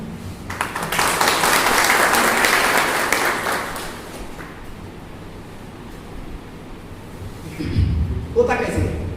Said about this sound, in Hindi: अच्छी तालियां बजाइए प्लीज।